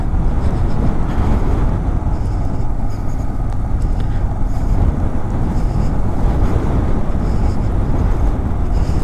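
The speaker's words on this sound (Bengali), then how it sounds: "আর এমন বাতাস যে বাইকে পরে মনে হচ্ছে ধাক্কায় সাইডে ফেলে দিবে" Strong wind roars and buffets the microphone during a motorbike ride on a rough mountain road from Leh over Khardung La toward Nubra Valley in Ladakh, making a loud, continuous, rumbling rush with no pauses.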